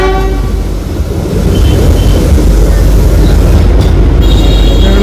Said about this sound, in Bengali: শিলিগুড়ির বাজার এরিয়ার মধ্যে দিয়ে ট্রেনটি যাচ্ছে